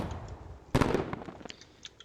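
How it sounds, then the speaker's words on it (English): A single sharp mortar impact bursts in a military video game, loud and sudden, followed by a short crackling tail and scattered faint debris pops. "Mortars incoming on Godry."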